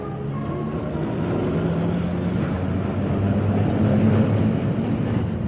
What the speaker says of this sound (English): these powerful electric locomotives operate between Manchester